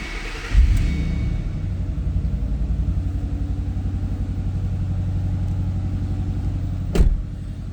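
A 2009 Ford Mustang Bullitt V8 cranks and fires with a loud burst, then settles into a steady, deep rumbling idle with a lumpy pulse, briefly blipped once near the end; no talking.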